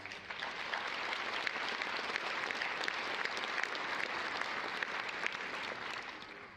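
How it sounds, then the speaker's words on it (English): Graduates and guests at a university commencement ceremony clap in sustained, dense applause that holds steady at full strength throughout, filling the room. "give yourself a round of applause"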